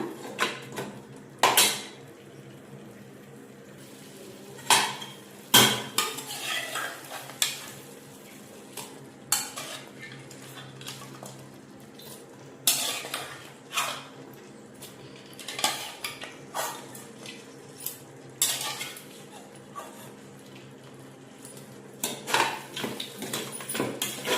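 A spoon scrapes and clinks against a pot as cooked mutton is stirred into yogurt for biryani, irregular metallic knocks and scrapes over a faint sizzle, close and moderately quiet.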